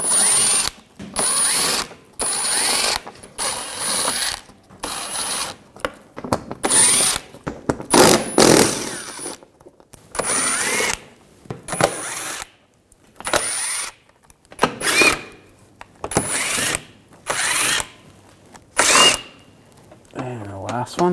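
Power tool with an 8mm socket backs out the shield bolts on a 2007-2013 BMW 328i, in repeated loud bursts of whirring drill-like spin separated by short pauses, with clicks and handling noise between them.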